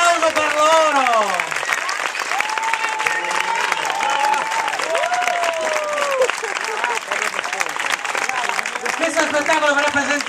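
An audience at a Dominican Power show applauds steadily and loudly for the whole stretch, while a voice talks over the clapping.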